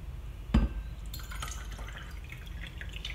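Water is poured into a glass in a quiet indoor morning routine, with a soft thud and splash at the start, then light trickling and a few small drips and clinks.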